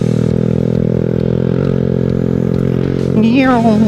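A Kawasaki Z125 motorcycle on knobby tires runs hard off-road with a loud, continuous engine drone close by, and a rising rev climbs near the end.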